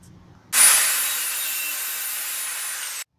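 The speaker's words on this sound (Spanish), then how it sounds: "Puedes hacerlo con tu sierra circular, tu sierra caladora o con un serrucho." A saw cuts steadily through a piece of wood, starting abruptly and holding a loud, even, bright rasp for about two and a half seconds before stopping, with no talking.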